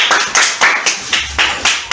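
Classroom students clapping together in a rhythmic unison pattern, about seven sharp, loud claps evenly spaced at close range with no talk.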